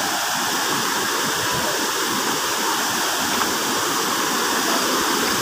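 Baluarte Falls pours in a steady, dense roar of rushing water, unbroken and fairly loud throughout, with no talking.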